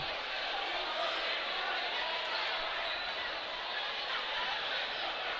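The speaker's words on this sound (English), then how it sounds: "And the fans still don't like it. They're booing." Basketball fans in a gym crowd booing during a high school game between the Panthers and Raiders, a steady broad roar of disapproval sustained throughout without breaks.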